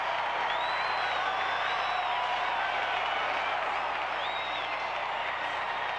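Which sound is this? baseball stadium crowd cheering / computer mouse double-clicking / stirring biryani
baseball stadium crowd cheering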